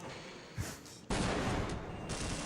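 The Gauss rifle fires in the Half-Life video game: a short blast, then a louder, sustained discharge that roars on, close and dominant.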